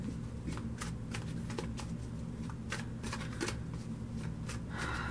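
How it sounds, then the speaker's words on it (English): Tarot cards being shuffled by hand, a steady run of soft riffling and papery slaps repeating for several seconds over a low background hum, close and fairly quiet with no talking. "We're gonna get some more cards."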